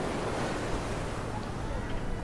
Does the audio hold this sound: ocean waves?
yes